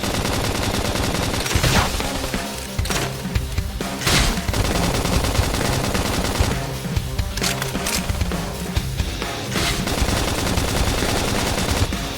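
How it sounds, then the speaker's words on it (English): Gunfire in the video game Xenoblade Chronicles X rattles in dense automatic bursts with occasional heavier booms, loud and continuous over a busy battle mix, with no voices. "Gun him down."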